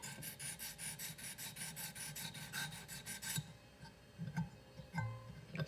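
A very fine cylinder bore hone rubs back and forth on a La Rosa jaw harp trigger clamped in a vise, making a rapid, steady series of close raspy strokes that stop and give way to a few scattered scrapes and taps.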